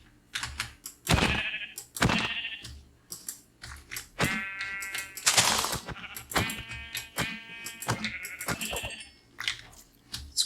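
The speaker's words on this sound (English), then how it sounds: "I think that's one sheep." Sheep bleating inside a Minecraft-style game, several loud nasal bleats in a row, some long and wavering, mixed with sharp mouse clicks and keyboard taps throughout, with no speech.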